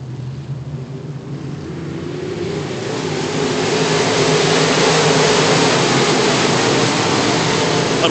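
Modified race cars roar together on track under green flag, a dense broadband engine drone building in loudness over the first few seconds and then holding steady and loud.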